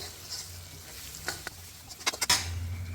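Masala stirred in a pan as fresh curry leaves fry, a soft steady sizzle broken by several sharp scraping strokes of the spoon near the end, close and fairly quiet.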